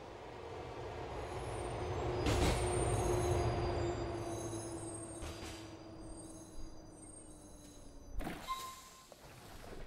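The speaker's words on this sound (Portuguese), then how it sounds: "Espere o trem chegar." Subway train arriving at a station in the video game GTA IV: a steady rolling rumble with a long descending brake squeal, a few metallic thunks and clanks near the end, moderately loud with no talking.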